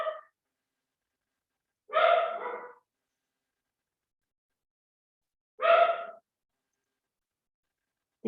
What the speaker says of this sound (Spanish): Disculpe si se escucha el perrito.